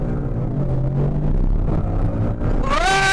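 Whipple-supercharged 2018 Ford Mustang GT accelerating hard on a road, a loud steady engine rumble building to a rising supercharger whine near the end.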